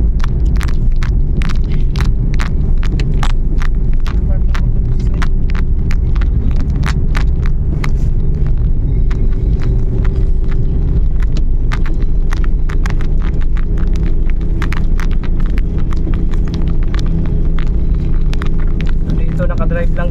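A Suzuki DA64W climbing the steep Ligaya Drive, its engine droning loud and steady throughout while people talk over it inside the car.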